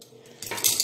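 Tramontina stainless cutlery, table knives and forks, clinking together as they are handled, a quiet metallic rattle that grows busier and brighter in the second half, with no talking.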